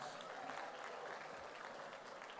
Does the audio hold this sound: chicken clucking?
no